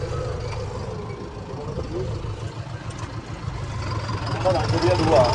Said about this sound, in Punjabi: ਹੁਣ ਤੁਹਾਨੂੰ 13 ਹੜਾ ਤੇ ਚਲਾ ਕੇ ਦਿਖਾਉਨੇ ਆ ਕੀ ਪਰਫਾਰਮੈਂਸ ਆ ਟਰੈਕਟਰ ਦੀ